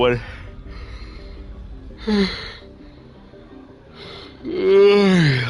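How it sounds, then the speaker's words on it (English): A man's drawn-out yawn breaks into his speech and rises into a long, strained, voiced groan near the end, heard up close and fairly loud. "man, a yawn ruins a sentence."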